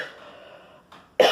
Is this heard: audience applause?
no